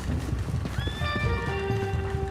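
Galloping horse hooves in Red Dead Redemption 2, steady clip-clop with a long, loud whinny rising over them, set against busy game ambience.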